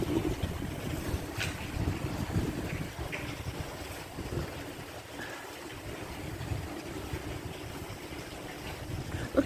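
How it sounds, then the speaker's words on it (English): Rushing water from a waterfall gives a broad, steady wash outdoors on a cold day, mixed with gusty wind buffeting the microphone. "We're coming up to the waterfall."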